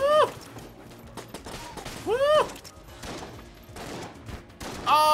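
Shotgun blasts in the Enter the Gungeon video game, a few short punchy shots mixed with chirping game effects, sounding alongside music and a talking player.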